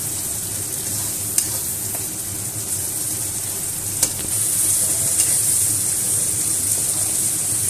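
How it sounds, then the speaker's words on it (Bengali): Tomatoes and spices sizzle in oil in a pan while being stirred, a loud steady frying hiss with scraping strokes and a couple of sharp clicks, the sizzle intensifying partway through. "এবার এটাকে ভালো করে টমেটোটাকে কষিয়ে নিতে হবে।"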